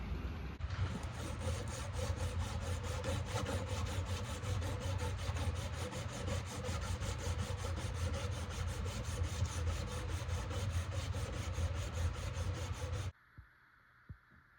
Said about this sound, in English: But now it's time for hand sanding.